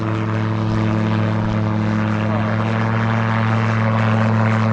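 Propeller-driven small airplane accelerating and lifting off on a farm, a loud, steady droning engine hum with strong harmonic tones sustained throughout, no voices.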